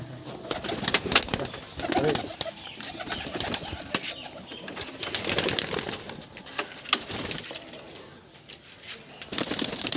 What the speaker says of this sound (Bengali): এই যে দেখুন সব পায়রা বেরাচ্ছে